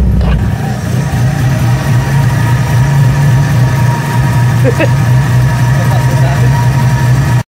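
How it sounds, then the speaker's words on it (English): A Nissan 240SX fitted with DC headers and a 3-inch catback exhaust idles roughly, its loud, low, uneven exhaust drone running steadily throughout. "it was idling super crappy"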